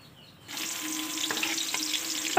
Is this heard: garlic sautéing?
yes